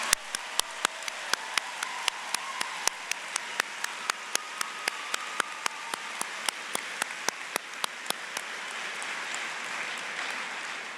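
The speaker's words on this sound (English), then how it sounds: "Let's have a big round of applause for these graduates." An audience at the NC State College of Natural Resources spring 2024 commencement claps for graduates: a broad wash of applause with sharp individual claps popping out at a steady pace, with no one talking.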